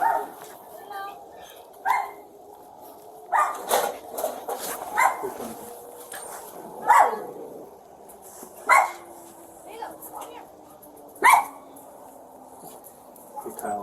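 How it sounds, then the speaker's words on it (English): A dog barks in sharp, spaced yips and whimpers indoors, repeated bursts every second or two, close and loud, with people talking in the background between the barks. "let me grab the dog"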